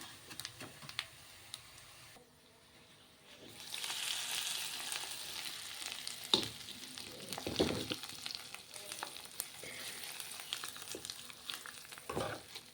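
After a brief hush, hot oil crackles and sizzles loudly as a spice tempering is added to coriander, coconut and brinjal chutney, with a few utensil clinks along the way.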